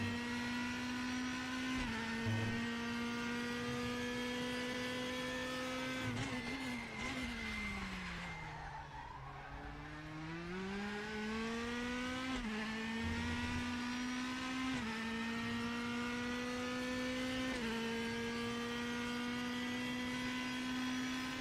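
DTM 2002 race car engine in the RaceRoom racing game, a steady loud high-revving drone that dips in pitch mid-clip as the car slows for a corner, then climbs again through several upshifts.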